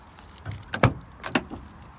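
Pull-out step on a 2002 Peugeot Boxer motorhome (Suntor Avantgarde) sliding out with a couple of sharp mechanical clunks and rattles, close by, with no talking.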